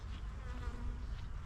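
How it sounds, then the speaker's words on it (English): Many honeybees buzz continuously close by around an open hive during a spring inspection, a dense droning hum with no voices. "The bees are active. There must be something blooming."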